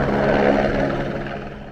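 A helicopter flies near Himalayan helipads with a steady, loud engine and rotor roar that fades slightly toward the end.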